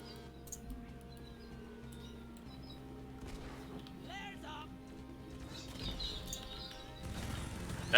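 Galah calls from a video game set in the Australian bush, brief chirps and squawks rising over a steady ambient game soundscape with low hum, heard intermittently through the middle and end.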